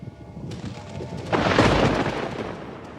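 A thunderstorm in a 1996 TV film of The Canterville Ghost: faint rumbling that breaks into a loud, close crack of thunder with a long, rolling rain-laden roar afterward.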